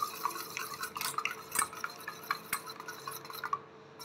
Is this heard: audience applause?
no